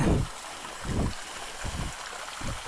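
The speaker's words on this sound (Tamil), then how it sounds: "குட்டி வாட்டர் ஃபால்ஸ் இது எப்பயுமே வருங்க இங்கே தண்ணி" A small waterfall near Valparai flows with a soft, continuous splashing rush, broken by low surging pulses of water at close range.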